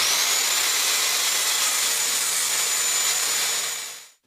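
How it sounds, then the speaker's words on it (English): Wooden boards are sawn in half into four-foot lengths for a garden bed: one loud, continuous cutting run with a steady high whine that holds for about four seconds, then quickly fades out. "First, you'll need to cut both boards in half to create 4 4-foot lengths."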